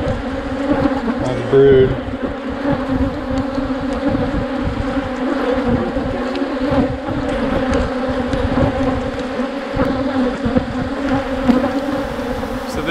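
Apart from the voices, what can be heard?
thousands of honey bees swarming around a beekeeper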